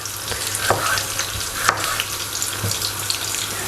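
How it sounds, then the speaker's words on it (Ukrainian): Chopped onion frying in butter in a pan, a steady close sizzle with occasional clinks and stirring scrapes, no talking. "шматок вершкового масла, відправляю на сковорідку цибулю та буду нарізати перчик"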